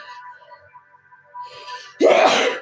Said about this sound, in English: When I start sneezing like that